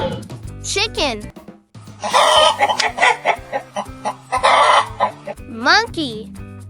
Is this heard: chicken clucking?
yes